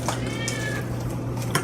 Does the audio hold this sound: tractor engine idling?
no